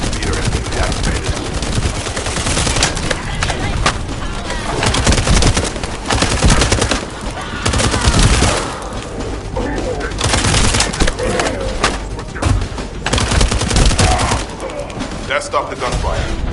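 Dense video game gunfire during a mission near a communications relay base, loud and continuous bursts of rapid shots with booms, mixed with game sound throughout.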